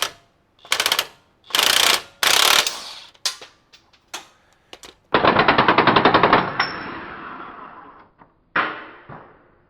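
A power impact tool snugs 18 mm bolts during a lift kit install on a Jeep Rubicon 392, firing several loud, close bursts of rapid hammering, one long rattling run, and scattered clinks and taps between them.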